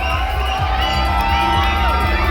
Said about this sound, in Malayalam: make some noise guys and let's welcome